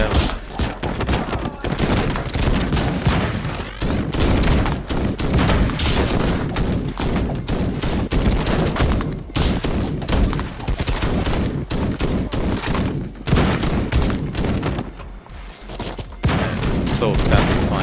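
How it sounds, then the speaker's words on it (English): Cannon fire in a first-person shooter video game, heavy booming blasts and dense rapid gunfire mixed into constant loud battle noise for the whole stretch, with a player's voice mixed in. "So satisfying to fire this cannon."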